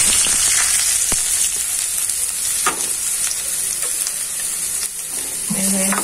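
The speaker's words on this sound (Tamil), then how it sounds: "ஆயில் ஊத்திட்டு ஆயில் சூடானதுக்கு அப்புறம் குட்டி குட்டியா நறுக்கி வச்ச வெங்காயம்" Finely chopped onions frying in hot oil in a home kitchen pan for kothu parotta, a steady close sizzle with occasional stirring scrapes, no talking.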